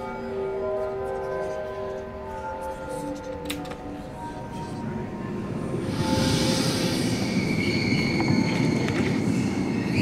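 A crowded subway train in the pixel-art game Yuppie Psycho rumbles steadily, then swells into a loud rushing roar with a squealing hiss of wheels as it speeds up, heard alone without talk.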